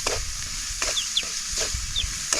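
Chopped red chili sautés in a pan at an outdoor rural cooking spot, a soft sizzle broken by a few distinct scraping stirs, with faint bird chirps nearby and no voices.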